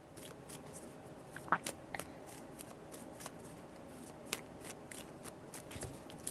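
Tarot cards shuffled quietly nearby, a faint soft riffle with scattered light ticks and snaps against low background hiss, no voices.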